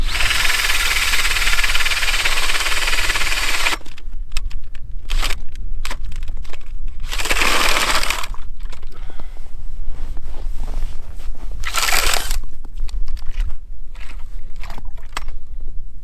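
A power ice auger bores through roughly 6.5 to 7 inches of ice on Delavan Lake: a loud, steady grinding roar for about four seconds, then several short bursts of noise follow.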